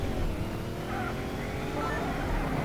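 Engine of a car in a racing video game, a steady continuous drone with some varying pitch, held at even loudness with no pauses and no talk over it.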